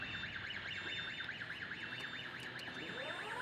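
A steady, warbling electronic alarm on a LiftHero CPD30 6,000 lb electric forklift rises and falls rapidly in a continuous pulsing tone, faint but constant, with some low mechanical hum underneath.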